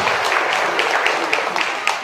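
Audience at a hospital and nursing college event in Robertsganj, Sonbhadra, marking World Heart Day, breaking into steady, dense applause that holds for the whole stretch, with scattered sharper claps standing out near the end.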